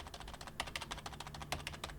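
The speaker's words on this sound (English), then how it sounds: "Here's me typing on the keyboard" Typing on a computer keyboard beside a quiet gaming PC, a quick irregular run of soft close key clicks and taps over a faint steady fan hum.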